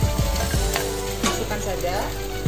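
Five thinly sliced, briefly boiled sausages hit a hot pan and sizzle steadily, with occasional scraping stirs, close and fairly loud with no talking.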